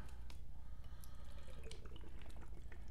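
Egerer Husaren beer, a Märzen, pours into a glass with a steady liquid splash and small drips throughout, close and moderately loud, with no talking.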